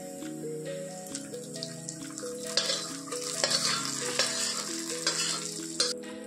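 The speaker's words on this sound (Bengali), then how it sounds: "চিংড়ি মাছের টপকার মধ্যে আমি পেঁয়াজের ফোড়নটা এর মধ্যে ঢেলে দিচ্ছি।" Fried onion tempering in mustard oil is poured into a prawn dish, setting off a bright crackling sizzle with scattered spattering pops against a steady hum, close by and with no talking.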